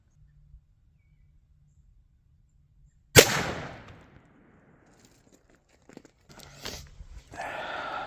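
A Federal .410 shotgun slug fired into ballistic gel outdoors, a single sharp loud report after a few seconds of near silence, followed by faint rustling and handling noises.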